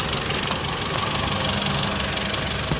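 A car engine fitted with an aftermarket eBay turbo and fake blow-off valve runs steadily up close, a loud continuous rumbling hum with no speech.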